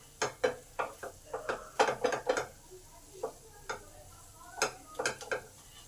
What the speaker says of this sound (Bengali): এই তেলেতেই ভালো করে মশলাটাকে ভেজে নিতে হবে।